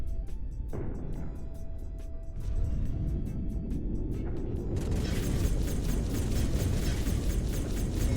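A spaceship target blowing apart in the space combat game SpaceBourne 2: a loud, rumbling explosion that swells into a sustained roar with crackling debris, continuing alone without speech.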